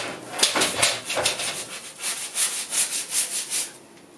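Painted fibreglass is sanded by hand with 80 grit sandpaper, a close series of rough, rhythmic scratching strokes that grow steadier and more regular toward the end, with no talk.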